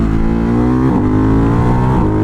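A semi-automatic motorcycle rides loud and close, its engine note holding steady with brief dips around gear changes and no talking.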